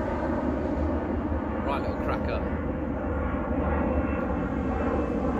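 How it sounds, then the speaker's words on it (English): A fixed-wing airplane passing overhead, a broad continuous engine drone at steady volume across the whole span, with someone speaking briefly beneath it beside a lake while carp fishing. "Excuse the plane going over the top."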